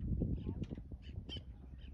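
Birds caw and call in short bursts on an evening at a calm, shallow Thai island anchorage while someone talks throughout and the calls stay in the background.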